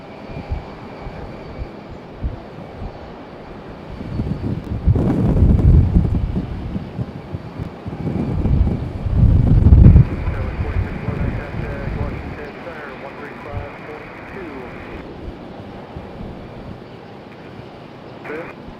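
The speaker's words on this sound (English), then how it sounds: "There's Air Canada. That CRJ crabbing in here with this" An Air Canada CRJ jet lands in a strong crosswind at Raleigh-Durham airport, with a rising engine roar mixed with gusty wind buffeting on the microphone.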